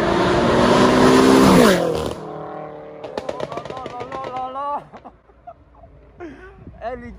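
BMW M8 with straight-pipe exhaust roars past close by, loud and rising then falling away, followed by sharp crackling pops and burbles from the exhaust as it moves off, with a voice talking over it.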